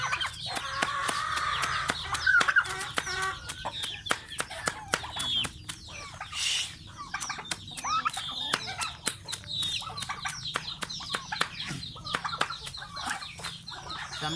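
Chickens cluck and chatter on a farm where ducks and chickens are fed chopped banana stem, several birds close by with overlapping clucks alongside repeated sharp tapping pecks.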